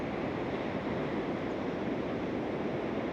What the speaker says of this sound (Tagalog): Nakakasyokot yung hangin.